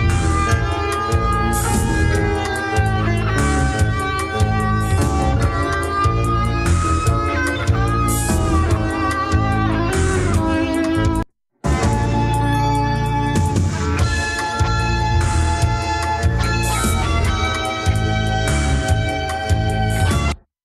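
A restored tape recording of a full music mix, heard after analog-style pulse compressor mastering, with punchy, heavy bass and steady rhythmic beats, loud throughout, broken by one brief dropout near the middle.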